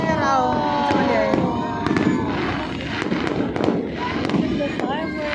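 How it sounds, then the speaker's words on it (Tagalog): Fireworks burst repeatedly at a New Year celebration, sharp cracks and pops scattered in quick succession over a fizzing crackle, with people talking and calling out underneath. "The fireworks."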